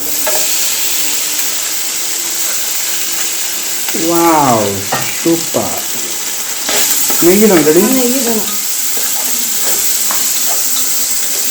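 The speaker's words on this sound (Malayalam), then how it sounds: "കുറച്ച് ഓയിൽ ഒഴിച്ചു കൊടുക്കുക ഓയിൽ നമ്മുടെ ബീഫില്ലേ അതിട്ട് കൊടുക്കുക" Beef frying in hot oil in a pan, a loud continuous sizzle and hiss that runs throughout, with a couple of brief louder tonal clanks or squeaks partway through.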